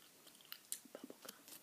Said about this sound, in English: I hear some bubble gum I'm chewing, by the way. Super bubble.